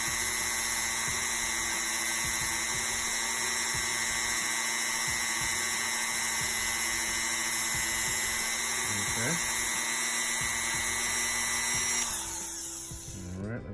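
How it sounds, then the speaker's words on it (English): A power tool sands down the ankle joint of a Marvel Legends action figure, a steady high-pitched whine running continuously and close before winding down near the end. "sand this down"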